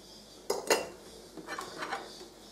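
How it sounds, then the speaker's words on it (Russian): A spoon stirs fine oat flakes with baking soda and a pinch of sugar in a dish for yeast-free kefir bread, giving a few soft clinks and scrapes against the bowl, quiet and close. "Все это хорошенько размешиваем."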